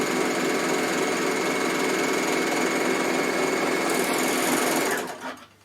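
A Bernina L450 overlocker stitching fabric for a scarf runs in a steady, loud, continuous whir for about five seconds, then slows and stops near the end.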